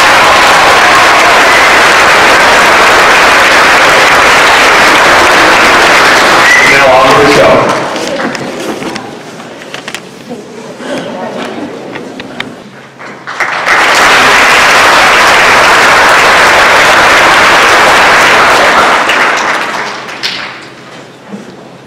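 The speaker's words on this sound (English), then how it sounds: "can we have a round of applause for Calvin?" Audience applause fills a school holiday program, loud and sustained, fading partway through with thumps and murmurs before a second strong burst of clapping.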